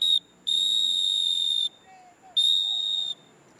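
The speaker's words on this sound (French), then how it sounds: "le sifflet à la bouche retentissant régulièrement" Shrill traffic whistle blasts, three of them with short gaps between, loud and close, with faint background noise in the pauses.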